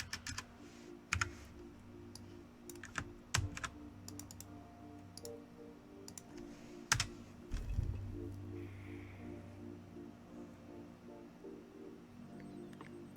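A password typed on a computer keyboard in short bursts of clicky keystrokes, some keys struck harder than others. A low hum and quieter pauses run between the bursts.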